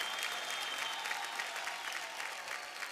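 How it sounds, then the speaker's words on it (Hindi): Loud, sustained applause from a studio audience on a TV dance show, Dance India Dance Super Moms, a dense steady clatter of many hands with no break. "जोरदार ताली हो जाए दीपिका जी के लिए।"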